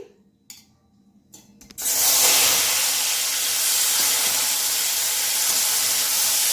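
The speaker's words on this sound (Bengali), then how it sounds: "আমি এবার একটু তেল দিয়ে দিচ্ছি চিংড়ি মাছটা ভেজে নেব" Prawns hit hot oil in a heated kadai and burst into a loud, steady frying hiss that holds for several seconds, following a few faint clinks and quiet kitchen sounds.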